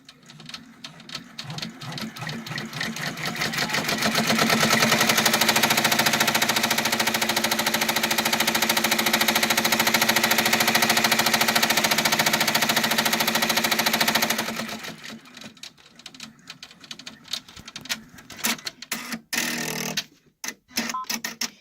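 An embroidery machine stitches a placement outline on a hooded towel, a fast mechanical rattle that holds steady for about ten seconds and then breaks into scattered ticks and clicks, near and with no talk.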